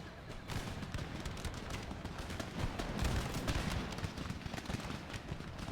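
Musket volleys crackle through an Empire: Total War land battle against Sweden, dense and continuous, with rolling bursts of fire and a low rumbling wash beneath the shots.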